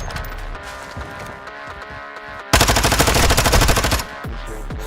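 Rapid automatic gunfire from Call of Duty Modern Warfare, a loud sustained burst of close shots lasting about a second and a half, set against quieter game sounds and scattered shots before and after.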